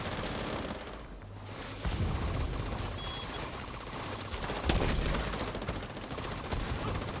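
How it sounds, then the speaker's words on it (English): Gunfire in a video game as a window is shot out: rapid repeated shots and bursts over a constant noisy game background, with a louder crack midway. "I'm gonna shoot out this window."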